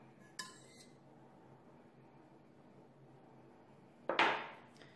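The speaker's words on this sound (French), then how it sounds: "à l'aide d'une fourchette, je vais enlever les gousses de vanille" A fork clinks twice against a pot of just-boiled milk while vanilla pods are lifted out, a short metallic tap early on and a brighter, longer clatter near the end, with quiet room hiss between.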